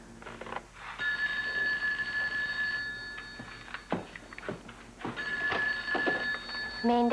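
Telephone ringing in a hospital setting during a daytime soap opera, a steady electronic bell tone repeating in two long bursts with a short final chirp, fairly loud and clear over faint background noise.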